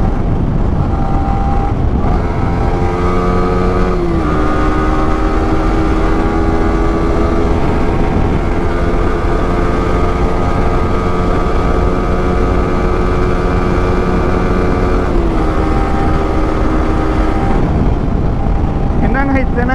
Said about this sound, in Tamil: ராக் எக்ஸாஸ்ட்லேயே இவ்வளோ சவுண்டு கேட்குதுங்க